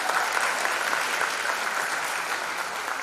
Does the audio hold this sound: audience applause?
yes